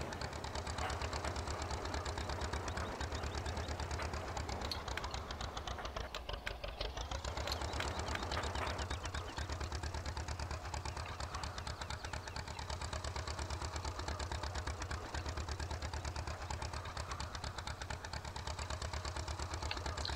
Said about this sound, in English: The thing I do like about this tractor is it can turn in a tight circle